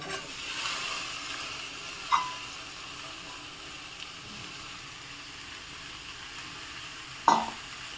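Capsicum is stir-fried with onion and turmeric in a pan, giving a steady soft sizzle with two sharp clinks of a spoon against the pan.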